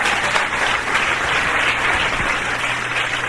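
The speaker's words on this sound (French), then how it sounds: "Allons acclamer le Seigneur." A church congregation applauds the Lord in steady, sustained clapping that fills the room, with no voices rising above it.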